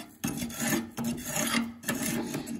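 A metal tool scrapes and rasps hardened burn buildup off the edge inside a Harman P68 pellet stove, in a few close, loud grinding strokes separated by brief pauses.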